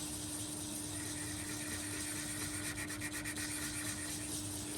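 An abrasive is rubbed in a circular motion against a tobacco pipe spinning on a lathe, a faint, continuous scratchy rubbing over a steady motor hum.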